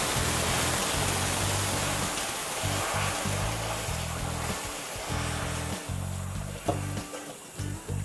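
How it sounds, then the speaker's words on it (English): Cold water pours from a tap onto a hot pan to deglaze it after baking pork chops, a steady loud rushing splash running throughout with brief clatter near the end. "hit it with some cold water."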